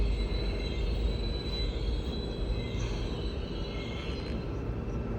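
A train rolls past behind a backyard, a continuous low rumble of wheels and cars with faint metallic squeals riding above it, moderately distant and steady for the whole stretch.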